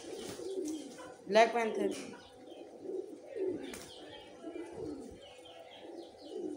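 Pigeons coo softly in low, repeated bursts while feeding on grain, with occasional chirps and wing flutters around them and someone talking over the flock.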